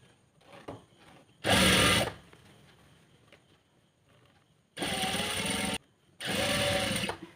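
A sewing machine stitches churidar lining in three short bursts of steady whirring, separated by quiet pauses with soft handling of fabric.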